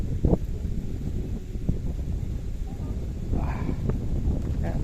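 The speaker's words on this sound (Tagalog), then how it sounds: "maingay ng hangin, maingay pa medyo okay." Steady wind blows outdoors near water during fish hunting for bangus, a continuous broadband roar with gusty swells, while someone talks intermittently over it.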